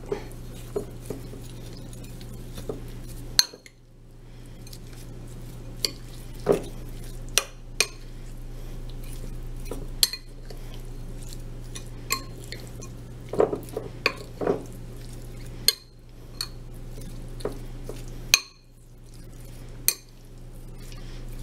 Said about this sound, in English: Now we'll mix this up.